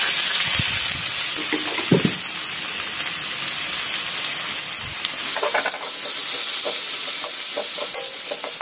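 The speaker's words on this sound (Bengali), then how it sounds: "এখন এই তেলের মধ্যে আমি পেঁয়াজ কুচিগুলি দিয়ে দিই" Chopped onions hit hot oil in a pan and fry with a steady, close sizzle, broken by a few stirring knocks and scrapes; no one speaks.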